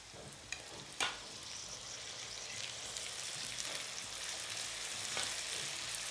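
Onions, green chillies and chopped tomatoes fry steadily in a hot pan, a continuous close hiss with a few sharp clicks and clatters near the start and no talking.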